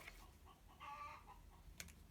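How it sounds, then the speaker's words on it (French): Hens clucking in a farmyard, one of them laying an egg, with a few short soft clucks scattered through and a brief sharper call near the end, fairly faint over low background noise. "je ne sais pas si vous entendez les poules"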